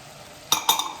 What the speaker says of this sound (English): So now we put beans